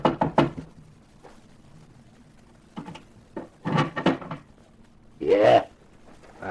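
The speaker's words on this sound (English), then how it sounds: "The waiter rapped on the door." Knuckles rap on an iron door at the top of a narrow staircase, a few sharp knocks in separate clusters, fairly close, with muffled voices and faint room noise between.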